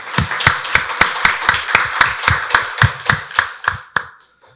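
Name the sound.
congregation clapping in church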